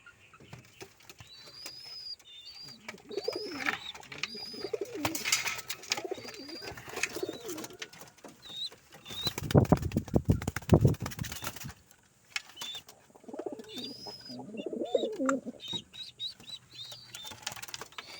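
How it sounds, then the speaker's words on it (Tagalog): Pigeons coo in soft repeated throaty phrases at a backyard loft, mixed with bursts of wing flapping and a loud flurry of wings in the middle, close and otherwise quiet. "Napunta pa dito yung isang kalapati natin."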